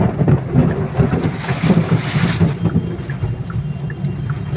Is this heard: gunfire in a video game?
no